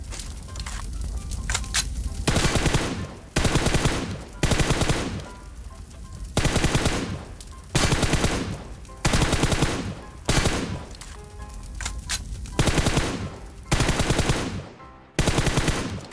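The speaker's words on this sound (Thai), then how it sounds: "โอเคผมยิงให้รถพังก่อนดีกว่า" Bursts of automatic gunfire in PUBG Mobile aimed at a car, loud repeated volleys of several seconds each separated by short pauses, heard alone without talk.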